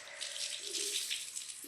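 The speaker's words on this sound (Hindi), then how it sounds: "करिया पानी निकलता है इनसे" Water runs steadily from a tap while dirty curtains are washed, a constant close splashing rush without a break.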